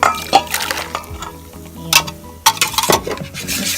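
An egg is beaten into an ensaymada dough mixture in a bowl, making loud, irregular bursts of scraping, sloshing and clicking from the utensil against the bowl. There are no voices.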